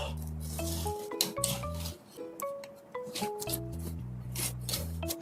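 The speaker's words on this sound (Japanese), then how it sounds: "あばら骨を取っていきましょう。 では、切っていきましょう。" A knife rasps and scrapes through the rib bones of a giant trevally during filleting, with repeated short gritty cuts close by over background music.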